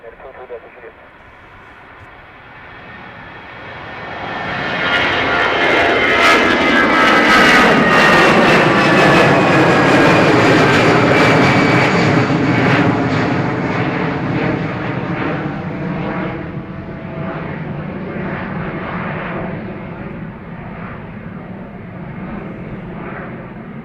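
Airliner jet engines spooling up for takeoff on runway 28 Right at Dublin Airport, a broad roar swelling over several seconds to a loud sustained peak, then slowly fading as the aircraft rolls away.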